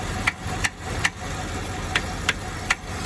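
A Camaro F-body engine idles steadily with a faulty EGR valve, while a series of sharp metallic taps strikes the valve about seven times at irregular intervals, close and distinct over the low engine rumble.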